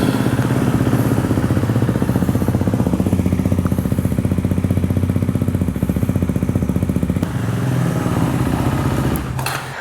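A KTM Duke 390 fitted with an Akrapovič slip-on exhaust with its dB killer removed idles loudly and close by, with a rapid, even, throbbing pulse that shifts slightly near the end.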